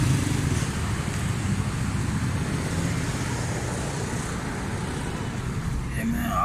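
Suzuki Cultus EFI car idling with its air conditioning running, a steady even low engine drone close to the microphone and continuous throughout, with no misfire evident.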